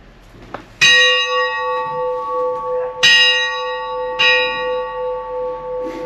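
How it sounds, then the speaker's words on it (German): A small church bell, rung by pulling a rope at a wayside chapel near Mönchhof on an Austrian pilgrimage route, strikes loudly three times, each clear metallic tone ringing on and slowly fading before the next. "hier gibt es eine Schnur, da kann man dran ziehen und dann bimmelt die Glocke"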